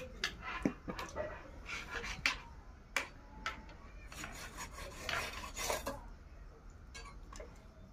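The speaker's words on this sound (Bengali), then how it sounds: "এখন পিস পিস করে কেটে নেবো মাছটা।" Knife work cutting a cleaned fish into pieces, probably a shol fish, on a board: repeated sharp chops and scraping rubs in an irregular rhythm, close and fairly quiet, with no talk.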